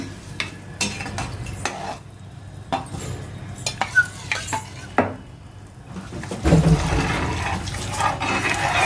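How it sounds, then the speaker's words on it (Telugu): A spoon stirs batter into boiling water in a pot for Bombay chutney, with scraping and clinking strokes against the vessel and a bubbling, sloshing rise near the end, close and moderately loud with no talk. "ఉండలు కట్టకుండా మనం తిప్పుకోవాలిరా"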